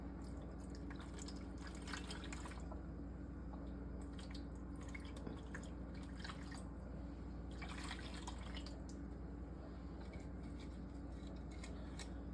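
Jerk chicken marinade being poured over chicken makes a continuous wet trickle and splatter, with irregular drips and splashes close by, and no one speaking.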